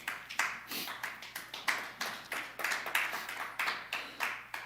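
A church congregation claps in rhythmic acclamation during a French-language worship service, a steady, fairly close run of about twenty sharp hand claps with no talk over them.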